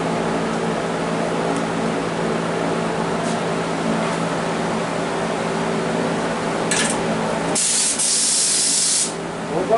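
Gel coat is sprayed onto a quarter-scale Chevy part, making a continuous close hiss from the spray gun over a low mechanical hum, with a louder, brighter burst of spraying near the end.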